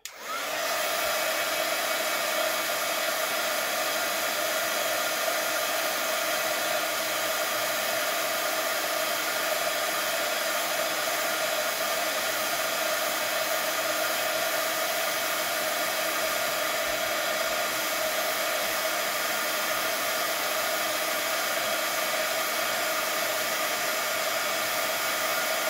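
A hair dryer blows steadily on a watercolour painting, giving a loud, constant whooshing whine with a fixed hum that runs unbroken for the whole stretch, with no voices over it.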